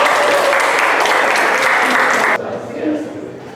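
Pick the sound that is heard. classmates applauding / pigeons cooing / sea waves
classmates applauding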